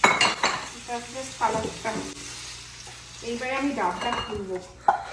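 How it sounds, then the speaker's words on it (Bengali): Food is lightly fried in a pan with a soft sizzle beneath stirring and clinking utensils against cookware, close by, while people talk over it. "আমি হালকা করে একটুখানি ভেজে নিচ্ছি"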